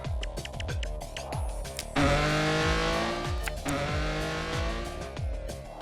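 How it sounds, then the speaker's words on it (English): Uno for Xbox 360 car sounds when cards are drawn and played: an engine revving up through rising pitches with a sharp tire screech cutting in, loud and continuous. "A tire screeching noise plays whenever you draw"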